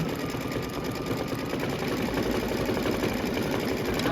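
A sewing machine runs steadily while stitching a Kimberbell Main Street Celebration Fire House quilt block. Its even, close whir and rapid needle rhythm continue without a break.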